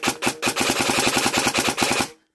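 Custom-built airsoft DMR firing a rapid burst of about twenty sharp, evenly spaced shots with a faint motor whir between them, close and loud, then stopping abruptly.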